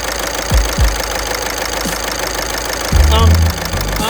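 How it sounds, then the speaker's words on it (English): A car engine idles loudly and close with its number 1 fuel injector disconnected, giving a steady rough running sound broken by a few thumps and a brief louder surge. "its connector here on the fuel injector, and we will see how the engine reacts"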